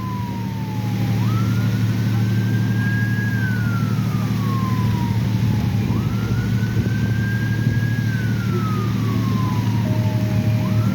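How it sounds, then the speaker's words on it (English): An ambulance and paramedic vehicle arrive with a wailing siren that rises and falls in long slow sweeps over a steady engine rumble, heard from a moderate distance. "Looks like you got an ambulance and a paramedic showing up."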